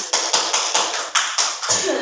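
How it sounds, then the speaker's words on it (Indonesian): A classroom of students claps in several short, rhythmic bursts, evenly spaced and close, each burst sharp and bright, with nobody speaking over it. "Tepuk tangan dulu untuk Kristi."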